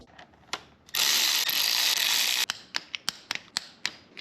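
A ratchet tightens bolts back into a Mitsubishi Evo 8 engine part, torqued to 8 foot-pounds. Close, crisp ratchet clicks come in quick short bursts, following a loud sustained hiss.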